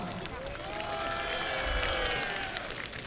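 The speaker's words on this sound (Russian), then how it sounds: "Приготовьте свои аплодисменты, овации" Stadium crowd applauding and cheering as football legends of Zenit's 1984 USSR championship side are introduced before a match against Estonian football legends, a sustained wash of clapping with a tonal voice drifting over it.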